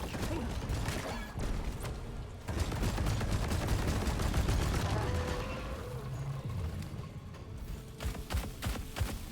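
A Gunner class weapon in Deep Rock Galactic fires long sustained rapid bursts, loud and close, with brief pauses and mechanical clatter, while a voice talks over parts of the shooting.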